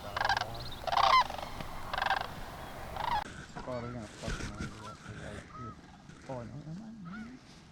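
Canada geese honk repeatedly in an alfalfa field during a Wisconsin goose hunt, calls overlapping at moderate distance with a voice briefly mixed in.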